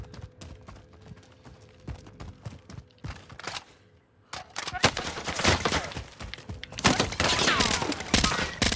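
Gunfire in Call of Duty Modern Warfare, sharp shots and rapid bursts that start sparse and grow into dense, loud volleys, with a player talking faintly between them.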